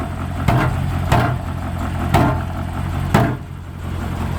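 A 1972 Range Rover engine idles steadily with a low rumble, broken by four sharp metallic rattles from a loose exhaust baffle at irregular intervals.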